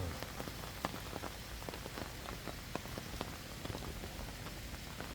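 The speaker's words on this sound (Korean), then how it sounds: "아이고, 비가 많이 옵니다" Heavy rain on a pond-side walking path, a dense steady patter of drops hitting surfaces with scattered sharper splashes, fairly faint and continuous throughout.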